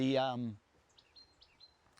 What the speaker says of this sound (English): I've never heard that bird before.